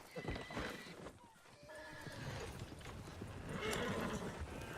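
A horse-drawn ride in Red Dead Redemption 2, with a horse neighing and hooves clip-clopping steadily beneath the rolling carriage, fairly close and moderately loud.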